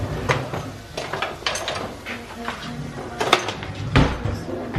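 Potatoes tipped into a pan for flautas in a home kitchen, with clattering pots, scraping and thuds of cookware, loud and close, mixed with some talk.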